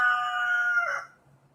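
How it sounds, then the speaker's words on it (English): A single rooster crow rings out, held and then trailing off into quiet, heard alone at moderate distance. "The rooster's not going to stop."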